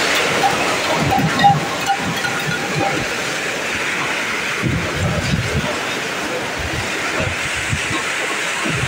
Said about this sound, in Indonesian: Hujan batu, hujan batu.